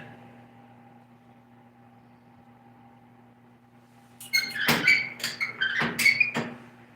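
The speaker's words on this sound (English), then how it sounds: "That'll stop that squeak, I'm sure." In a garage, a low electrical hum runs quietly until a burst of sharp, high squeaks and clicks breaks in near the end, several quick squeals close by, with no talk.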